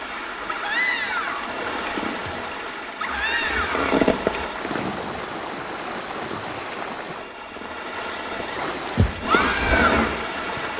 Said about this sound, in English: The water slides in Planet Coaster 2 are so much fun.